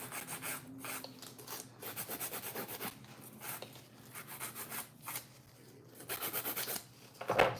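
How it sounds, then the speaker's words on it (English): A nail file rasps steadily along the side of an acrylic nail, with repeated close strokes in short rhythmic bursts and brief pauses between them. "Holding the skin back, filing it on the side."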